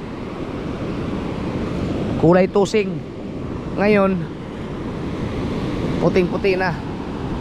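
Sea waves wash onto the shore with wind blowing, a steady broadband roar through the whole stretch while someone talks in bursts over it.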